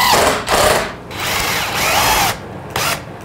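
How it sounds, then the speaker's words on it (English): A power drill whines in several bursts, revving up and down as it pre-drills wood for a shipping box, with brief pauses between runs. "Pre-drill everything. So you don't gotta worry about wood splitting."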